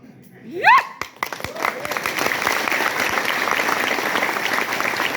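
A large seminar audience breaks into sustained applause after a brief whooping cheer, the dense clapping continuing steadily to the end.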